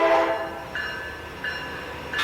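A train in the Roblox rail game Rail Sim Universe giving repeated horn blasts, three sustained tones separated by short gaps, loud and close with no talking.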